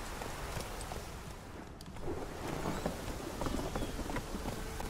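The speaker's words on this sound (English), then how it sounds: "Everyone is getting out of the rain." Steady rain falls over a village in the video game Witcher 3, a dense even hiss with scattered drop patters that swell slightly partway through.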